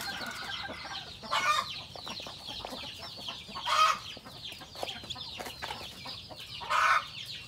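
A hen clucks softly beside her nest, where a newly hatched black chick sits, with repeated short clucks and three louder bursts of calls close by.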